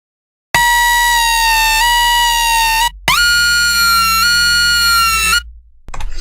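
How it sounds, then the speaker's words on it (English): Serum synth bass in a trap style, two loud buzzy sustained notes whose pitch bends upward like a riser, separated by a short gap, with a brief tail at the end and no talking. "First way is a tramp-esque kind of style with a riser by playing with the pitch bend, which sounds like this."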